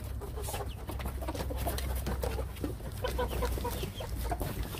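Rooftop-raised chickens cluck and call near the microphone, a busy overlapping mix of short clucks and squawks from several birds, with no talking.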